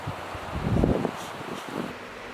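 Strong wind on a cold, snowy Minnesota winter day gusts against the microphone in low rumbling bursts, with one heavier buffet partway through.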